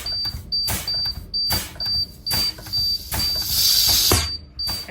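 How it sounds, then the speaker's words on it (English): A Class B passenger bus's air brake system is pumped down in a regular series of sharp air bursts, each followed by a steady hiss. Near the end, a louder rush of air comes as the parking brake valve pops out. "Now we're going to pump down to approximately 40, and our parking brake should pop out."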